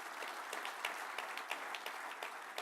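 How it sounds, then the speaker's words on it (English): A conference audience at a modular building summit applauds, a faint, even patter of many hands clapping that carries on steadily with no speech over it. "So that did demand a round of applause"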